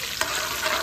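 Garlic and onion sauté in hot oil in a pan, giving a steady close sizzle with a soft stir scrape briefly rising above the frying.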